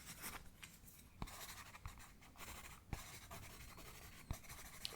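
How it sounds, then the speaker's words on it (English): Pencil writing on paper up close: steady soft scratching strokes with occasional sharper taps as the tip lifts and lands, quiet and intimate with no talking. "Pencil makes great sound, more than pen."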